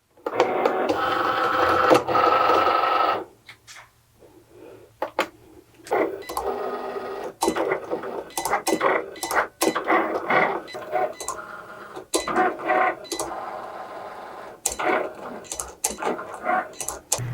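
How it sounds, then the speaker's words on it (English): A Cricut Explorer cutting machine fitted with the foil transfer tool and fine tip, running with a long stretch of whirring motor and then repeated mechanical clicks and carriage movements in irregular bursts, close and fairly loud. "The foil transfer tool is inserted into the machine with the fine tip installed."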